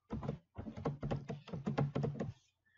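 A computer keyboard is typed on in a quick burst of about nine close, crisp keystrokes in an uneven rhythm, then it goes quiet.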